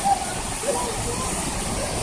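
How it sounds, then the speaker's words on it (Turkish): Garden waterfall at a petting zoo, a steady broadband rush of falling water that fills the whole clip, close and continuous. "Şelaleden geçiyoruz şu anda arkadaşlar."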